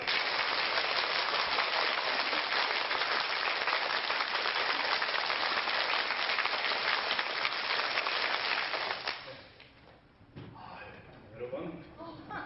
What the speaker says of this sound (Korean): 내 생애 최고의 박수 한번 준비해 보시고